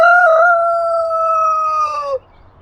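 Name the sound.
rooster crowing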